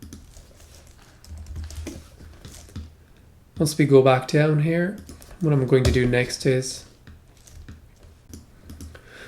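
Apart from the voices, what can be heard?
typing code on a computer keyboard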